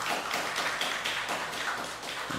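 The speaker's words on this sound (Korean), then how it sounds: "우리 이용훈 권사님 박수로 맞이해 주시기 바랍니다." A church congregation claps to welcome a deacon to the front, dense steady applause from many hands filling the room, fairly close and sustained with no talking over it.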